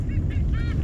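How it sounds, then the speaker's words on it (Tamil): Ducks along a nature park trail call out in alarm at a large eagle overhead, giving a few quick, nasal honking quacks in close succession over a dull low rumble. "இந்த வாத்துக்குருவிலாம் எதுக்கு கத்துதுன்னு தெரியுதா?"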